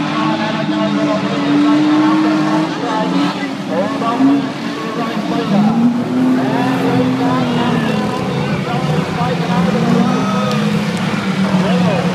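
Standard Saloon race cars roar around Southern 500 Speedway after a restart, engines droning and shifting pitch as they pass, with a race commentator talking loudly over the continuous engine noise.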